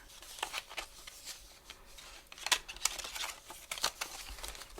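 A paper trimmer slices a tiny piece off a card, soft crisp snips and light scraping ticks scattered close by, quiet and without talk.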